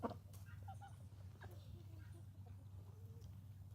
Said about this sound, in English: There's Sabrina and Elton and our cute little ducks.